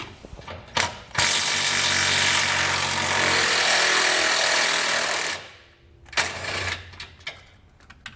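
A 15mm socket on a power tool spins off a jounce bumper nut on a 2020 Ford truck during an Air Lift LoadLifter 7500 XL install. It makes a loud, close, rattling mechanical whir lasting about four seconds, with scattered clanks before and after.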